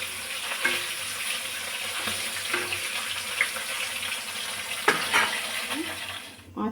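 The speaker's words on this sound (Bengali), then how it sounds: "কড়াইতে দিলাম পাঁচশো মাছ" Fish fries in a wok with a continuous, close oily sizzle. Occasional louder spits and stirring knocks break in before the sound cuts off.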